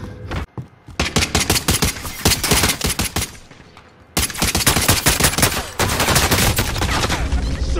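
Rapid bursts of automatic gunfire from Call of Duty Warzone Rebirth, loud and close, with dense repeated shots, a brief lull in the middle, then sustained firing again.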